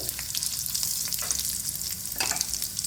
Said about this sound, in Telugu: కొద్దిగా వేగనిద్దామండి పచ్చివాసన పోయే వరకు